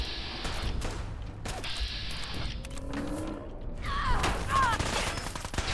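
Gunfire from a firefight with raiders in the video game Fallout 4, bursts of rapid shots and mechanical clatter with whooshing effects, moderately loud and uneven across the scene.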